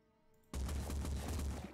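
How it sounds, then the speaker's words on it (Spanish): A burst of gunfire from Phoenix Point, a sudden loud rattle of shots after a brief quiet, sustained for about a second. "Vaya, qué mal disparo, no le hemos dado ni un tiro."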